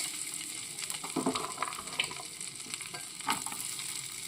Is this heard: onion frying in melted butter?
yes